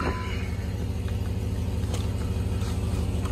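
A pickup truck's engine runs steadily while driving after a repair, a close, continuous low rumble with a faint rise in revs and no talking over it.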